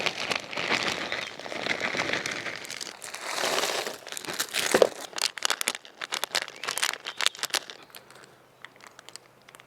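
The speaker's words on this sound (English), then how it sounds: "I'm just going to put half of this stuff in a plastic bag." Plastic crinkles and rustles close by in uneven bursts, busier at first and thinning out toward the end, with no voices.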